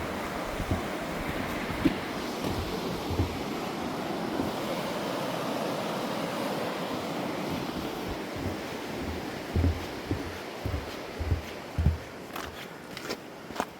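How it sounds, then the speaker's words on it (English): A river in the Lost Valley below Bidean nam Bian, Scotland, rushes steadily while someone crosses it on foot in the dark, with occasional soft thuds and scrapes over the flowing water. "So we're crossing over the river now."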